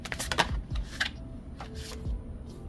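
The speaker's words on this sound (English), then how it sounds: "Let me shuffle a bit." A deck of tarot cards is shuffled up close, with rapid riffling bursts and soft slaps coming in quick uneven runs, and no voices.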